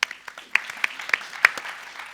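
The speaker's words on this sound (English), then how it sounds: "Round of applause for Alex." Conference audience applause for a climate resilience panelist: scattered, fairly sparse clapping with distinct individual claps, a few louder ones near the front, fading toward the end.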